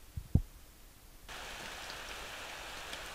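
Steady rain from the video game Corpse Party: Rebuilt, a broad even hiss that starts abruptly after a second of near quiet with a couple of soft thumps, then continues at moderate level alone.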